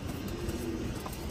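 Pigeons in a loft give a short, soft coo close by, low and faint against a quiet background.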